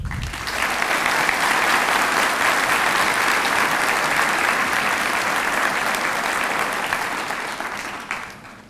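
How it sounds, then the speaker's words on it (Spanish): Audience applause at a public accountants' day event in 2014: a full, steady burst of clapping that holds loud and even for about eight seconds before tapering off at the end. "quiero iniciar con un fuerte aplauso para todos"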